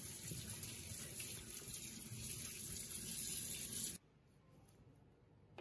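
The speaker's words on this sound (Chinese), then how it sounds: "咱们清洗一下。" Tap water running steadily while lamb meat is washed, a loud, hissing gush that stops abruptly near the end, leaving a quiet room with faint handling noise.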